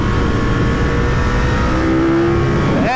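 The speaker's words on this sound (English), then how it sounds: "Airbox sounds so good when you open it up" Ducati 916 motorcycle's airbox roars loud and close as the throttle opens in second gear uphill, a steady intake rumble with pitch rising near the end, no talking.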